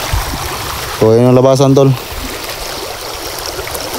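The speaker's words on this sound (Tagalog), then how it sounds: "yung sapa ay mababaw lang" Water trickles steadily in a shallow stream, with someone speaking over it for about a second.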